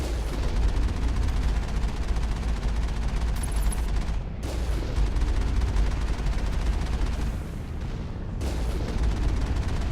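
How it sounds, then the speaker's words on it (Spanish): Rapid, continuous turret gunfire in Mass Effect, dense bursts of shots broken by two brief pauses, loud and close with no voices. "qué cadencia de disparo tiene esta torreta"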